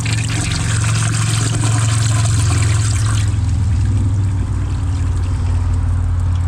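A 2005 Kohler Wellworth Ingenium toilet flushes up close with a loud, steady rush of water that cuts off sharply about halfway through, leaving a quieter trickling refill with a low hum beneath it.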